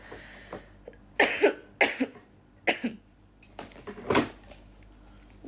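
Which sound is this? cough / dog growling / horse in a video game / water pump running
cough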